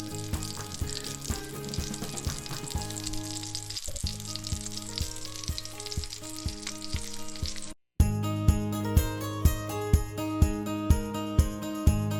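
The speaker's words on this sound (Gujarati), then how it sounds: "આપણે લગભગ પાંચથી છ કચોરીને એકસાથે તળી લઈશું" Five or six mini kachoris deep frying together in hot oil give a steady, close sizzle that runs the whole time beneath loud rhythmic background music.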